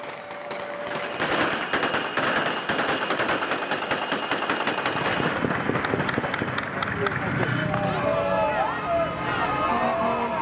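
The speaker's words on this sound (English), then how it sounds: "The rebels fired their guns into the air." Gunfire from rebels shooting their guns into the air in celebration in Syria: rapid bursts of automatic fire crackle loudly for several seconds, then thin out beneath crowd noise and shouting voices.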